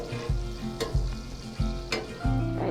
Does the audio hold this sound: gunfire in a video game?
no